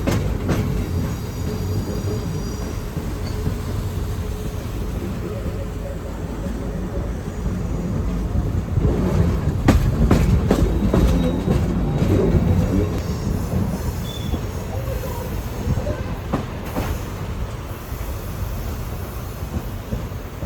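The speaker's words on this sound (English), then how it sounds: "our train will be pushed back to Canyon City." A passenger train on the Royal Gorge Route being pushed back toward Canyon City, heard from the rear car: a steady rolling rumble with wheel squeal and a few sharp rail clanks over about twenty seconds.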